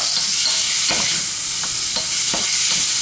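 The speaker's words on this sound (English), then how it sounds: "So what I'm doing here is I'm just frying off the beef" Beef sizzles loudly in a hot pan for a stew, a constant frying hiss broken by occasional scrapes and clicks of stirring.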